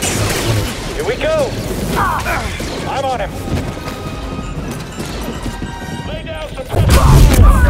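Blaster gunfire and crashing impacts in the Star Wars Jedi Fallen Order video game, loud bursts over a busy mix of battle effects, with a voice talking among them.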